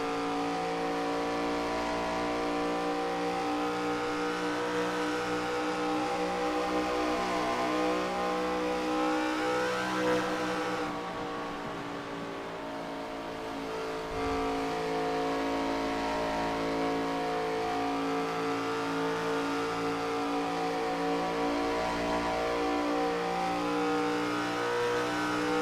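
ARCA race car at Michigan heard onboard, its engine droning at high sustained revs with a steady harmonic whine and a brief dip in pitch midway, loud and continuous with no talk.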